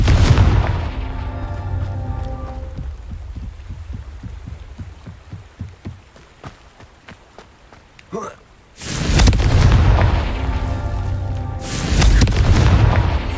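Confringo fire spell blasting in Hogwarts Legacy, heavy booming explosions with a rumbling tail, a series of rhythmic thuds in between, and two loud sustained blasts near the end, with a voice briefly heard.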